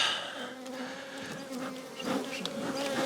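Bees drone steadily around a barrel hive packed with comb. The buzz is close and continuous and swells slightly near the end, with no voices.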